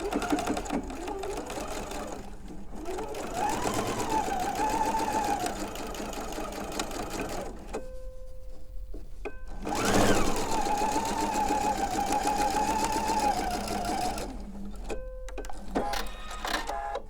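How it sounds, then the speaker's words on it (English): A sewing machine stitches along a marked line on fabric, running in two long whirring bursts with a brief pause between, close and steady. "I'm going to sew this way, both sides of that mark line."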